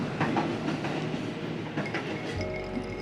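A train rolls along the railway tracks near Jurangmangu station on the Balaraja to Tanah Abang line, a close, steady rumble with rhythmic clattering of wheels that fills the whole stretch.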